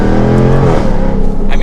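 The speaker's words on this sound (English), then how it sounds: "You can really hear that exhaust." A loud, deep 2022 Jaguar F-Type R AWD convertible V8 roars and revs up close, a rich throaty exhaust note rising and holding steady, with a voice faintly underneath.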